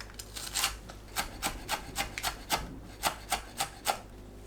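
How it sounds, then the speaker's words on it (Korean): A knife chops Cheongyang chili peppers into small pieces on a board, a series of about a dozen crisp, evenly spaced cutting taps heard up close. "청양고추를 작게 썰어줍니다."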